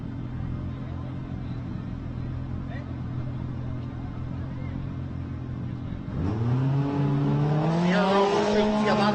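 A Polaris off-road race vehicle at the Baja 400 starting line: a steady engine idle under a commentator's talk, then a loud rising rev as the vehicle accelerates away, pitch climbing through the gears.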